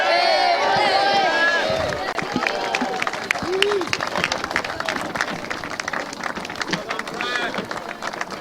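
Sustained crowd applause for the prep runners-up, Dulwich Prep London, at a schools rugby sevens tournament, a steady wash of clapping with cheering and an announcer's voice over the top.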